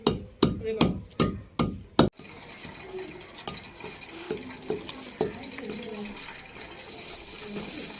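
Dried pomegranate seeds with a splash of water pounded in a mortar for a village kadhi pakora recipe, starting with a rapid series of about seven loud, sharp thuds, then continuing as softer, scattered knocks over background noise.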